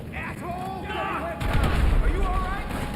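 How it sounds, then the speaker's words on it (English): Gunfire and explosions in GTA 5 Online during a solo weekend business sell mission: a heavy, rumbling burst of shooting and blasts swells partway through, loud and continuous, with a voice speaking over the start. "We're receiving fire."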